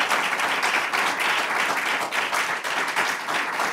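An audience in a radio station's in-studio music session claps steadily throughout, a continuous round of applause from a modest crowd of listeners, fairly close and even in level.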